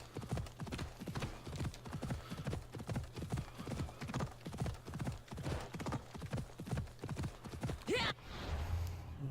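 Steady, rhythmic clip-clop of horse hooves at a trot in the video game Assassin's Creed Odyssey, close and continuous, with a brief snort or whinny near the end.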